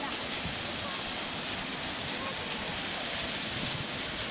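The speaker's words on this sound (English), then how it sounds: "Oh, here's the waterfall." A waterfall in South Wales roars as a steady, dense wash of rushing water, loud and unbroken throughout, with no distinct individual splashes standing out.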